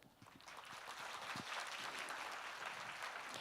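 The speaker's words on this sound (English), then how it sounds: "please give a big round of applause for the successful opening of today's forum" Applause from the audience at the opening of the East Asia Cooperation Forum, steady, dense clapping at a moderate distance that builds and holds for a few seconds.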